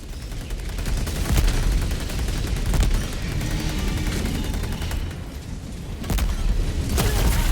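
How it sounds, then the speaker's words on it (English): Cannon blasts in a video game ring out amid a steady barrage of gunfire, with a few sharp booms standing out from the continuous loud shooting. "I tried to shoot the cannon and it missed because it was still aiming."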